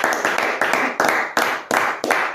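A congregation at a French-language revival worship service claps in unison acclamation, six or so loud, evenly spaced rhythmic claps ringing out close and full with no talk over them.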